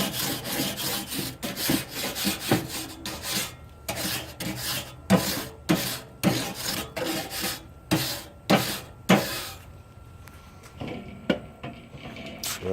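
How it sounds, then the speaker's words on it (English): A hot smoker grill grate is scraped down with repeated rasping strokes, a close, loud, rhythmic scratch-and-drag pattern with short pauses between passes. "Gave it about 5 minutes to let the grate heat up so I can give it a scrape down."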